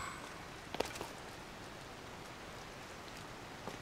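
Steady soft rainfall hiss in the video game The Legend of Zelda: Tears of the Kingdom, with a few faint drop clicks near the start, quiet and continuous with no voices.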